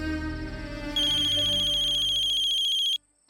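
A telephone ringtone plays loudly and near, a melodic electronic ring that shifts to a higher sustained tone after about a second, then cuts off abruptly.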